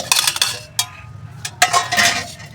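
Raw mango pieces tumbling into a metal pot, a few bright clattering clinks and rattles in short bursts, close and fairly loud, with no talking.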